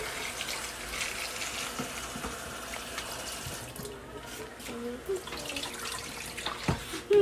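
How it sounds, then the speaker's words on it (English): Kitchen tap water runs steadily into a sink while dirty eggs are washed, a constant splashing hiss with small clinks and shifts as the eggs are handled. "we're gonna make some eggs, but first we gotta wash them"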